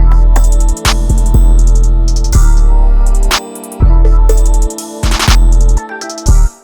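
A loud, hard trap beat with deep sustained bass, crisp punchy percussion hits and rapid hi-hat rolls in a repeating pattern, playing continuously without any voices.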